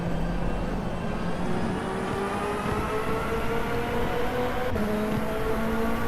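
A racing car in rFactor 2 drones steadily down an airfield runway on the long Top Gear track, its engine a constant close hum with faintly shifting pitch throughout.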